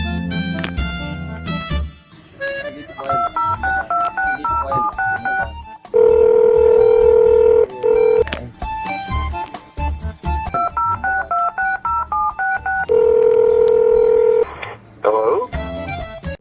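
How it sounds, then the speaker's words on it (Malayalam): Telephone keypad tones as a number is dialed, a quick run of short beeps, then a long steady ring tone, another string of beeps and a second long tone, loud and close with brief music at the start. "അത് ഞാൻ ഒന്ന് വിളിച്ചു നോക്കട്ടെ."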